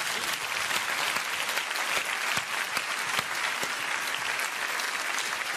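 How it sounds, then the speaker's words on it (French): An audience claps loudly after a theatre comedy performance, a dense sustained round of applause with sharp individual claps standing out, steady from start to finish with no talk. "Et on l'applaudit encore très fort."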